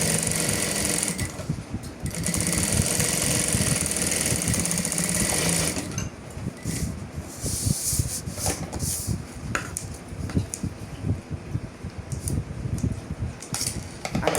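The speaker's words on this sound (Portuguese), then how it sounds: "Vou rebater a costura agora novamente." A sewing machine topstitches a seam on a traditional fabric toiletry bag, running in a steady loud buzz for several seconds, then continuing in shorter stop-start bursts with faint handling noises in between.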